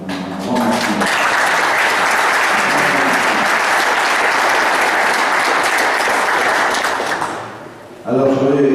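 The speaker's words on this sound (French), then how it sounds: "Je pense franchement que ça mérite au moins de vous applaudir très fort." Loud, sustained applause from an audience at a rural public debate on the wood industry, a dense wall of clapping lasting about seven seconds before fading, with a voice beginning to speak at the end.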